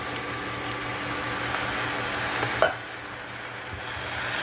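Bulgogi beef being stirred and mixed with rice and sauce in a pan, a soft continuous scraping stir under faint sizzle, with one brief louder scrape of the utensil partway through.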